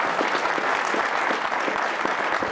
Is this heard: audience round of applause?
yes